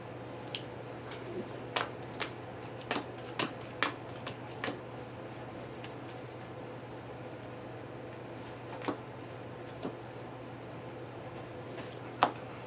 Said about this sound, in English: I should shuffle that